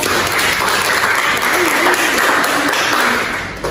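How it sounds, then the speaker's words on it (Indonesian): An audience at a health promotion talk about gout breaks into sustained applause, a dense wash of clapping that holds steady for a few seconds before fading slightly at the end. "Baik, berikan aplaus."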